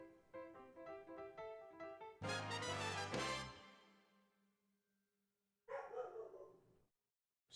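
A dog barks in quick bursts, first a run of sharp yaps, then a loud cluster of barks, and after a pause another short round of barking, all fairly close.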